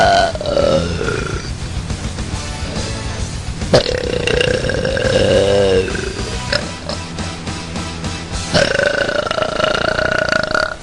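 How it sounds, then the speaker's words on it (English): A woman lets out a run of loud, close, drawn-out chunky belches, several deep gurgling burps in succession with short pauses between them. "there's seriously something wrong with my belches tonight. They're all chunky."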